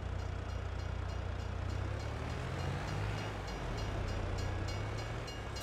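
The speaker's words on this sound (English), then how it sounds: "There goes the train." Train rolling past in the Farming Simulator 22 video game, a steady rumbling drone with rhythmic clatter of wagons, continuous and fairly close with no talk.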